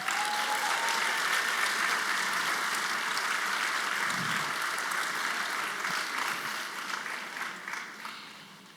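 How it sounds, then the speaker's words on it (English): Audience applause for graduates walking to the stage at a first-generation student celebration, sustained dense clapping from a large crowd that holds steady then gradually thins and fades toward the end. "Can we give our graduates a round of applause as they walk to the stage?"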